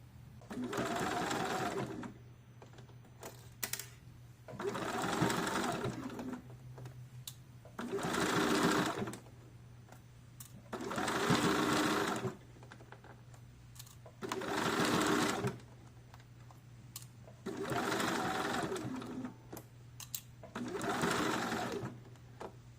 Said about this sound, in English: I'm going to sew it down.